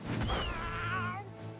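A cartoon cat in the video game South Park: The Fractured But Whole gives a single drawn-out meow that rises and then falls. It sounds clear over a low, steady background hum.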